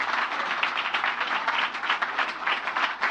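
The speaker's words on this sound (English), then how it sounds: "I think that deserves an even more rousing round of applause." Applause from the audience at the Zenith Bank offer presentation, a dense and even wash of many hands clapping together. It holds steadily throughout with no talk above it.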